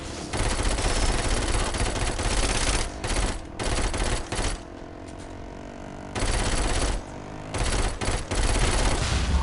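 Rapid automatic gunfire in the video game Saints Row 4, loud bursts of shots with short pauses between them, heard close and alone with no talk over it.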